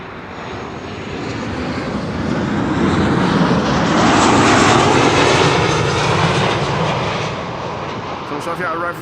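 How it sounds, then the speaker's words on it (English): A Transavia Boeing 737-800 arriving from Pisa roars past at Amsterdam Schiphol, its engine noise swelling to a loud peak midway and then easing off, while a voice speaks over it. "Transavia arriving from Pisa."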